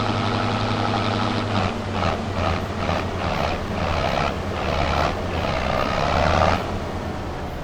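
Tractor engines in Farming Simulator 25, Plains & Prairies Pack, drone loudly and steadily with a deep rumbling tone that shifts as revs rise and fall.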